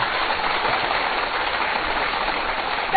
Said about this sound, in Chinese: 我们再次用掌声欢迎卢奇老师